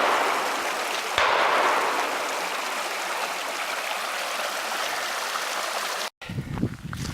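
Steady rushing water from Ottery Creek in the Ozarks fills the scene, loud and continuous, with a brief break and some rustling movement at the very end.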